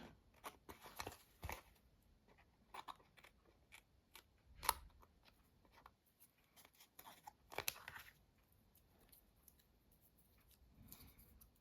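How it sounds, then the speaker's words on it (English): Scissors snip through paper while trimming small bits off handmade junk journal tags, quiet close crisp cuts in irregular bursts with pauses between. "let's cut all the little bits off now"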